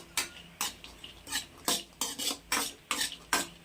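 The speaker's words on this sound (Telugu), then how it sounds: "పాయసం కోసం బాగా నెయ్యిలో బాగా వేయించుకోండి." Cashews frying in ghee for payasam while a utensil stirs them in the pan, about eight rhythmic scraping strokes close up over a faint sizzle.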